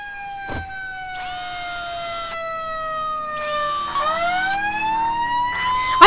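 A fire engine siren wails loudly, its tone sweeping down and then back up in long slow cycles, with brief intermittent bursts of noise and a slight rise in volume toward the end.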